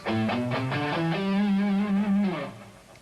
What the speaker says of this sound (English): almost identical to a natural minor scale, except there's no 6th